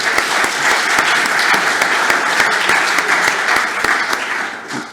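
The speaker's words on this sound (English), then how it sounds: "You don't have to clap every slide" A large lecture audience at a tunnelling society evening meeting claps steadily and loudly, a dense even wash of applause with some sharper individual claps standing out, lasting throughout without a break.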